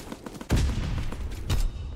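Strafing-run gunfire in the Call of Duty: WWII video game: two heavy, booming bursts of rapid fire, the first about a second long and the second shorter, loud against a busy battlefield din.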